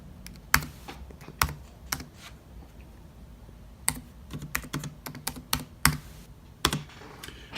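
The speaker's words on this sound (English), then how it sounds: "Let's listen to that keyboard." Typing on a 2016 MacBook Pro keyboard gives sharp, close clicks in irregular bursts with short pauses between them. No one speaks.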